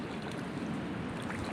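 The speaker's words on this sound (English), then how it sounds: "This is a tiny creek." Water runs through a tiny, high-flowing creek in a steady, soft broadband rush, close by and with no voices.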